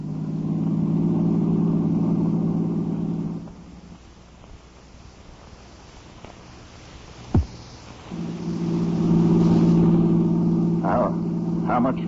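Radio-drama car engine effect: a steady hum of a car driving runs loud, drops away to quiet for several seconds with a sharp click, then returns at full strength.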